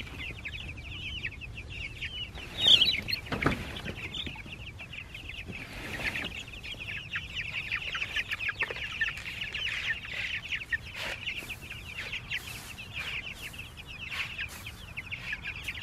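Meat chickens cluck and chirp continuously on pasture at moderate distance, a busy flock murmuring over a steady background with occasional louder calls.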